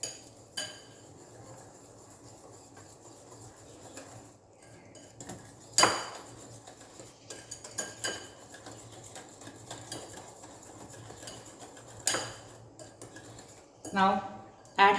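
A spoon mixes powdered sugar in a bowl for a simple microwave cake, giving soft scraping and stirring with occasional sharp clinks against the bowl, moderately close and without speech.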